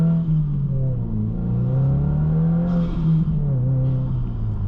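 A tuned 2022 Subaru WRX accelerating hard on a mountain road, its engine note climbing steadily in pitch with a loud, continuous in-cabin drone and a brief shift-like dip near the end, no talking.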